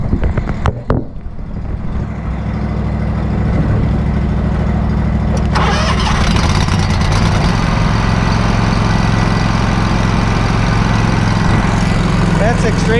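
Lawn care engine cranked and fired up, a brief stuttering start followed by a loud, steady low idle rumble that picks up slightly partway through and then holds, with a voice heard briefly.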